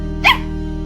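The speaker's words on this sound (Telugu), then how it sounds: "కుక్క అరుస్తుంది?" A single short bark from a foreign-breed dog rings out once, fairly close, over a steady background hum.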